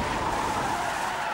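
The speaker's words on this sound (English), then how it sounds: "The officer's final ram sends the suspect skidding out of control." A car skids out of control after a police ram during a chase in Carroll County, Georgia, its tires giving off a sustained loud squeal with a steady pitch that holds for the whole short moment.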